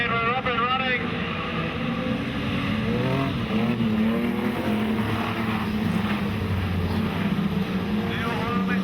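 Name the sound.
modified production race cars racing at Maryborough Speedway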